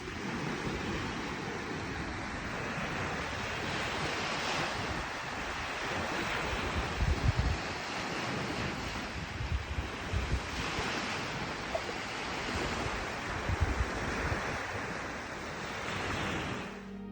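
Sea waves wash steadily onto a North Sea beach, a broad continuous roar of surf mixed with gusty wind buffeting the microphone, with no voices throughout.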